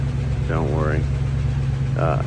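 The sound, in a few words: International Scout II 304 engine warming up and ticking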